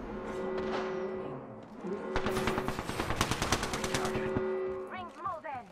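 Automatic gunfire in a video game rattles in a dense, rapid burst at mid-volume, set among game sounds, tonal hums and brief callout voices.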